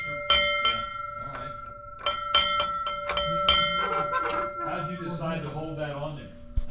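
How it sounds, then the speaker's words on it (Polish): Several gentle, ringing strikes of a small bell on a Ford Model T fire truck in a fire engine museum, clear metallic tones with lingering resonance, followed by people talking. "Też z dzwoneczkiem, możemy sobie zadzwonić delikatnie."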